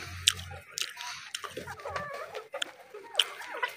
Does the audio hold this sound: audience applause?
no